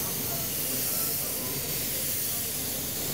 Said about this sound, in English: We're doing live airbrush demonstrations, actually showing people and dispelling those myths that you have to be an artist to do this